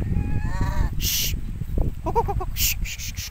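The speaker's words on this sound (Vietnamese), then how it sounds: "đây là ba con ờ, ba con ngỗng nha đây" Geese kept on a farm pond in a coconut garden honk in a few short bursts, with a rapid repeated call mid-clip, over a noisy outdoor background.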